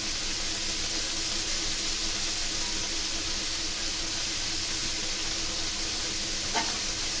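Chicken shashlik fries in a pan with a constant, even sizzle and hiss that holds steady throughout, with no voices.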